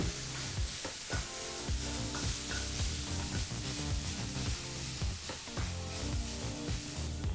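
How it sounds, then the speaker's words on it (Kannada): Ground masala sizzles steadily in a pan on low flame while green gram usli is prepared as festival prasadam, with regular stirring scrapes cutting through the continuous frying hiss. "ಈಗ ಇದನ್ನು ಲೋ ಫ್ಲೇಮ್ನಲ್ಲೇ ಎರಡು ನಿಮಿಷ ಫ್ರೈ ಮಾಡ್ಕೊಳ್ಳೋಣ"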